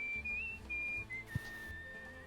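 Whistling in the video game Where the Water Tastes Like Wine, a clean, high sustained whistled tune in several held notes with short gaps, heard alone over a faint low background.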